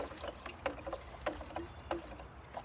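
Organic liquid fertilizer poured freely from a container, a soft continuous trickle broken by several gurgling glugs, close and moderately quiet.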